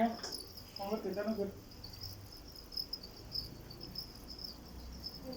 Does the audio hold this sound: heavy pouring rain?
no